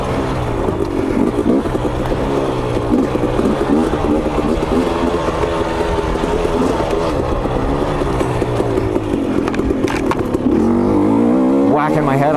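A KTM 250 XC dirt bike engine drones loudly and continuously while riding humid wooded trails, its pitch wavering with throttle changes and rising in a rev near the end, heard close up with no voices.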